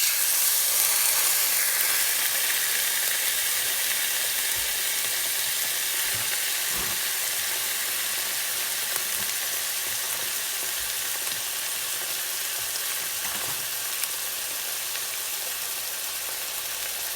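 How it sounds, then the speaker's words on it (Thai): Steady, loud sizzling of marinated pork neck frying in a hot pan over moderate heat, a continuous crackling hiss with occasional soft clinks of utensils. "เอาลงไปก่อนชิ้นหนึ่งนะคะเดี๋ยวให้กระทะเขาร้อนกว่านี้"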